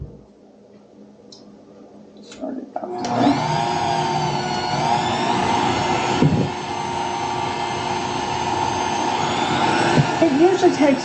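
A kitchen machine mixes and kneads homemade bread dough after a quiet start, its motor kicking in at once and then running as a steady, loud whirring hum with a faint whine.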